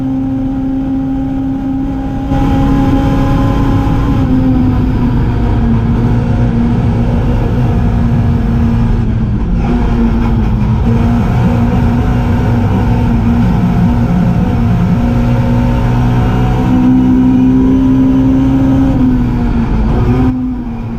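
A Mini Cooper race car at the Goodwood Revival is driven at full throttle, its engine roaring loud and close with sustained revving and brief dips during gear changes.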